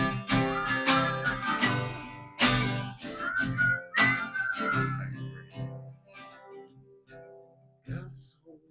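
A person whistling a lively tune, clear and close, in short melodic phrases with brief pauses, alone and without talk.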